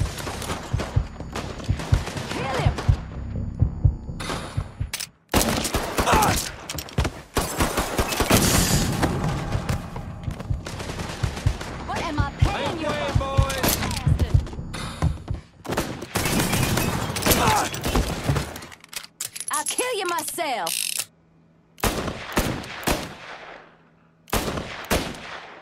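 Rapid automatic and single gunshots in a Mafia III shootout, loud and close, coming in dense bursts with brief lulls, sometimes heavy booms among them, while voices shout during the exchange.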